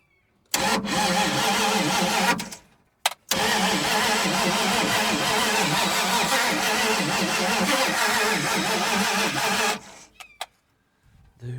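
A 1980 Dodge Power Wagon that sat for 20 years, with its ignition timing freshly adjusted, cranks briefly, stops, then catches and roars into a loud, steady running engine for several seconds before shutting off, with no talking.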